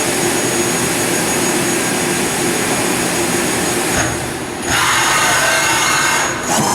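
A Bridgeport VMC3020 high-speed vertical machining center runs its spindle with a loud, steady, high-pitched whine and roar that dips briefly near the end before resuming.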